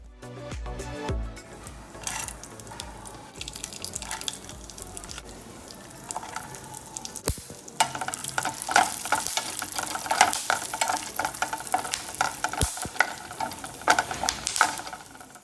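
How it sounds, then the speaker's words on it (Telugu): Cashews and other dry fruits fry in hot ghee in a pan, a steady crackling sizzle with stirring scrapes and some watery sounds, close and fairly loud, with no talking. "నెయ్యి వేడైన తర్వాత ఫస్ట్ కాజునే యాడ్ చేసుకొని కొంచెం ఫ్రై చేసుకున్న తర్వాత మిగతావన్నీ కూడా యాడ్ చేసుకొని ఫ్రై చేసుకోవాలి"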